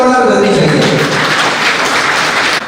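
Loud applause rises at a Saini community student award ceremony, dense clapping filling the stretch after a voice fades out at the start.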